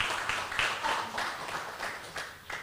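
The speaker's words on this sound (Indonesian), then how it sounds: "bolehlah tepuk tangan buat acara ini." Audience at a focus group discussion on state capital injections into state-owned enterprises applauds the event; scattered, fairly faint clapping in loose repeated bursts, somewhat distant, without speech.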